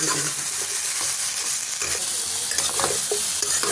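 Broccoli seasoned with salt and turmeric is stirred and fried in oil in a kadai: a continuous sizzle broken by repeated scraping strokes of a spatula against the pan, close and loud, with no voices.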